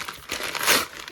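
Plastic packaging around a new mouse pad is ripped open in one quick, close crinkling tear lasting about a second.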